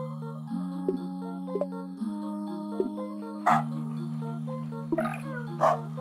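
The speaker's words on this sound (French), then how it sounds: "il faut que j'aboie pour les, pour leur donner des virages à effectuer" Short dog barks from the game Humanity, used to steer a crowd of people, sounding as a few sharp yips over a steady synth music drone.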